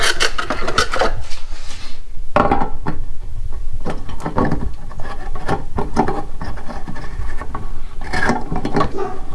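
Continuous gritty scraping and grinding as a light bulb's glass threads twist into a socket, in repeated short bursts with brief pauses, close and fairly loud.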